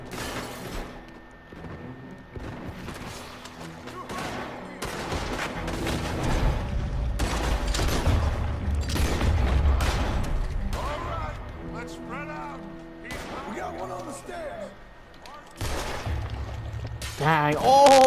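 Gunshots ring out in Red Dead Redemption 2, scattered sharp cracks and thuds among game noise and music, with people talking over much of the action.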